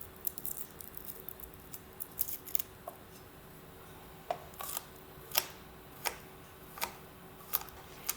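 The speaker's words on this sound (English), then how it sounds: "If you smush the garlic clove with your knife, it makes it a little bit easier to peel and then cut." A kitchen knife presses and chops a garlic clove on a cutting board for a pesto pasta salad, giving a string of sharp, evenly spaced knocks and clicks that grow more regular toward the end, close and fairly quiet.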